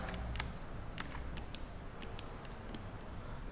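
Keys tapped on a computer keyboard for a Ctrl+R shortcut during 3D modelling work: a handful of quiet, sharp clicks spread unevenly over a few seconds against a low steady hum.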